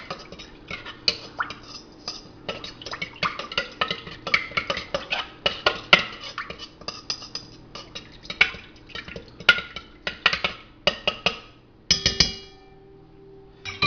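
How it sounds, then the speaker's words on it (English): A whisk beats spices for a deer jerky marinade in a bowl, a quick uneven run of close clattering taps and scrapes against the sides that stops near the end, with no voices. "Just kind of whisk that up."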